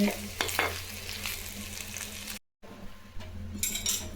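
Steady close sizzling of country chicken curry frying in a pan, with scraping stirs and a few light metallic clinks, briefly cut off midway.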